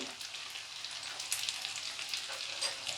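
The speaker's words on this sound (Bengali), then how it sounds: "এখন আমি আঁচটা একটু বাড়িয়ে দিচ্ছি লাল হয়ে ভাজা হওয়ার জন্যে।" Poha and potato fingers frying in hot oil over raised heat, giving a steady, close hiss of sizzling with faint crackles throughout and no talk.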